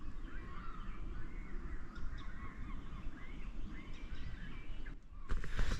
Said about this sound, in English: all the birds on the water, a couple owls